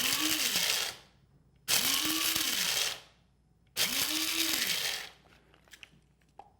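A coffee grinder crushes roasted cocoa bean pieces in three loud, close bursts, each about a second long with a rising motor whine at start and a fading spin-down, separated by short quiet gaps.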